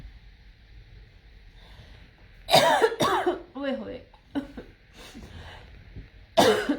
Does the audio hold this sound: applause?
no